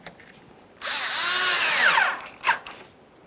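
A power driver briefly whirs up and winds down as a hose clamp is tightened with an 8mm driver on a 1994-2001 Dodge Ram 1500 5.2L V8 during a water pump replacement, followed by a short second burst.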